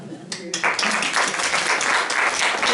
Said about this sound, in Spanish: pido un aplauso para Benedit